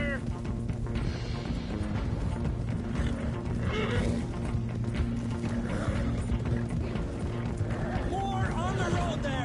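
Horses gallop in a busy, noisy chase with thudding hooves, and a sharp whinny rises near the end while shouting voices carry over the action.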